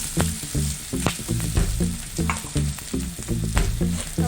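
Onion sautés in a pan for vada pav, a steady close sizzle and frying hiss with soft stirring clinks running throughout.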